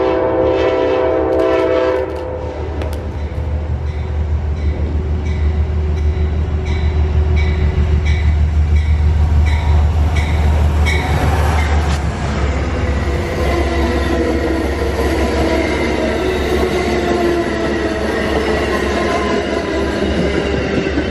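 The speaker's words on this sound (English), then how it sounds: "However, this one had a standard Phase 5, which you'll see pulling into Depew right now." The Lakeshore Limited, hauled by a Phase 5 locomotive, pulls into Depew station with a short horn blast, then a steady rumble of rolling wheels and cars with occasional squeals, all under gusty wind.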